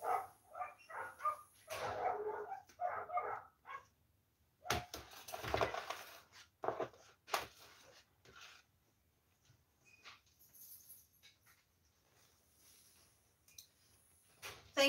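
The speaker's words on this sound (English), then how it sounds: "Those are our dogs barking at the neighbor's dogs." Several dogs bark at neighboring dogs in irregular bursts, some sharp yips mixed in, moderately distant with quiet gaps between volleys.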